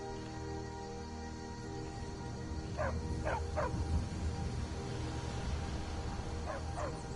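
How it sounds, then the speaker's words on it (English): A dog in the video game Skyrim gives a few short, yelping barks and whimpers over steady ambient game background, the calls coming in two brief clusters. "Stupid dog."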